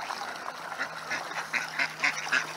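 Wild dabbling ducks in Seattle quack in a run of short, raspy calls that grow louder toward the end, fairly close and alone over faint background.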